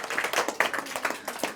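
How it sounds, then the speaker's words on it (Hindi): A small classroom group claps for students, a short burst of scattered, uneven hand claps close by. "शानदार जवाब दिए, जोरदार ताली होना चाहिए।"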